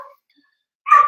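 A dog gives one short, loud bark near the end, after a brief faint whine at the start and near silence between.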